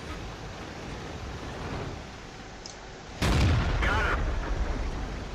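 A tank cannon firing in the video game World of Tanks, a single heavy boom that hits sharply and rumbles on, followed by a second burst, over low game ambience and someone talking.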